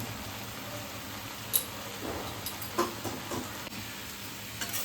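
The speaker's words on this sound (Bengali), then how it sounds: "চিংড়ি মাছটা দিয়ে ভালো করে দু তিন মিনিট নাড়াচাড়া করে" Shrimp being stirred with potato and vegetables in a pan, soft sizzling frying under a steady hiss, with a few brief clinks and scrapes of the stirring utensil.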